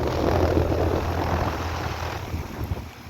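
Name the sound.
American Standard air conditioner running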